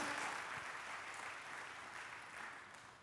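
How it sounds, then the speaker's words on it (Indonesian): Congregation applause at an Indonesian church service, a steady, dense wash of many hands clapping that holds evenly for a few seconds and tapers slightly at the end. "Tepuk tangan bagi Allah kita."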